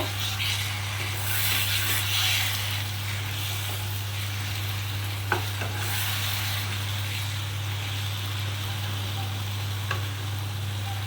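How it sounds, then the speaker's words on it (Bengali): Chicken being stirred together with kasuri methi in a hot pan, a steady sizzle and hiss running throughout under a low constant hum, with a couple of faint clicks of the spoon. "ভালো করে মিশিয়ে নেব"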